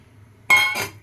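A spoon clinks twice against a pan while ground flour is stirred into melted cream for moong dal atta barfi, two bright close knocks about a quarter second apart, with nothing much under them.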